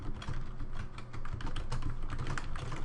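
Steady typing on a computer keyboard, with quick, closely spaced key clicks at an even rhythm, close and moderately quiet, with no voice.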